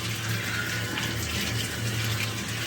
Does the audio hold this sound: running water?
yes